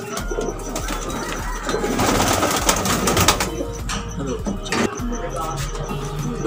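Rooftop Sialkoti pigeons keep up a dense, continuous cooing with scattered flapping and rustling, close and fairly loud, under a steady low background hum.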